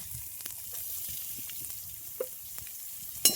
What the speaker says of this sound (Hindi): अब इसमें हम कटी हुई प्याज को डाल देंगे